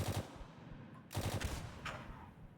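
Gunfire in the video game Frontline: Karelia: a few quick bursts of shots crack in short clusters with gaps between, fairly faint and distant in the mix.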